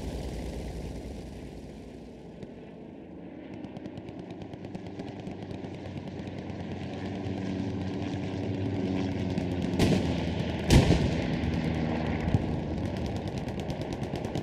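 In the Hell Let Loose video game, two 75mm tank guns fire back to back, sharp booming shots cutting through a steady roar of engines and distant gunfire that fills the whole battlefield soundscape.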